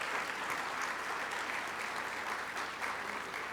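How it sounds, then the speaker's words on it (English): A breakfast-event audience gives a steady round of applause, a dense, even wash of many hands clapping that holds at a constant level, fairly distant and without talk. "Can I get a round of applause?"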